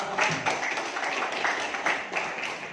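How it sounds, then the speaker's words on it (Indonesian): An audience at a village development forum claps for a professor, a modest spread of hand claps coming in uneven bursts, fairly close and moderately loud. "Kita kasih tepuk tangan untuk Prof"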